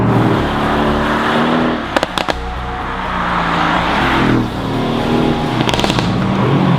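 A Mercedes-AMG GT C Roadster's twin-turbo V8 roars steadily and loud, with a few sharp crackling pops from the exhaust partway through and again near the end.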